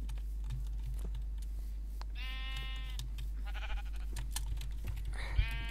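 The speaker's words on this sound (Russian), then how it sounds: "О, еще овцы." Sheep in the Minecraft video game bleat faintly a few times, short wavering calls spread across the scene over a steady low hum, with soft clicking like keyboard typing in between.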